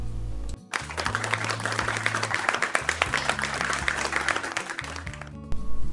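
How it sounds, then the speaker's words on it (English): Schoolchildren in a classroom applauding a classmate, a loud, busy patter of many hands that starts abruptly, runs for several seconds over a steady backing tune, then cuts off. "class, give 11 a round of applause for their bravery"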